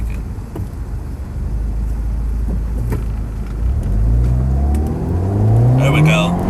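Car nicknamed Chili revving up and accelerating hard during a Draggy acceleration test, the engine note climbing steadily in pitch through the gears, with a voice speaking over it.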